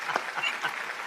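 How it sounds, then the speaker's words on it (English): A brief round of audience applause rises at a comedy show, a short fairly quiet burst of crowd clapping lasting about a second. "give her a round of applause"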